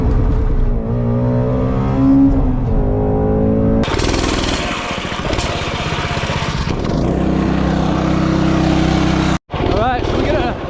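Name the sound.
Coleman B200R minibike engine running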